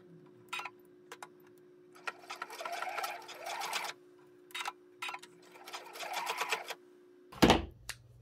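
Sewing machine joining fabric pieces of a baker boy newsboy cap, short bursts of rapid close stitching separated by quiet pauses, ending with a louder clunk.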